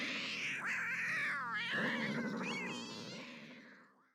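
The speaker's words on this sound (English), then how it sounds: "when you're using this engine sound, it certainly sounds like there's a few tortured cats stuck under the hood" The Civet car engine in Rocket League gives a loud, close, continuous wailing screech that rises and falls like yowling cats, then fades out at the end, with no other sounds.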